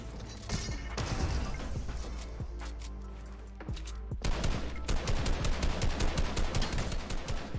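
Gunshots in a video game ring out in dense, rapid volleys, loud and close, with a brief lull before another sustained burst of rattling fire.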